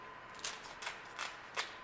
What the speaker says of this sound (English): just get a pair of scissors and cut it off